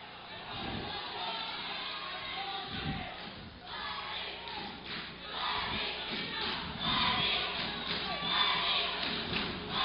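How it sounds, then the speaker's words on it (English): Crowd at a wrestling match cheering and shouting throughout, a loud, sustained roar that swells toward the end, with occasional thuds from the mat. "Now the crowd getting into it here."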